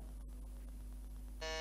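A single electronic quiz buzzer tone sounds abruptly near the end during a quiz competition, loud and steady, after a quiet stretch of low background hum.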